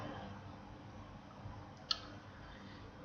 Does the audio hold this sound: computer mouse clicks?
yes